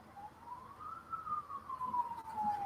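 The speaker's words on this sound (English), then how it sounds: "That's a funky siren going on outside" A single siren tone rises slowly then falls, heard faintly from a distance outside with low background rumble.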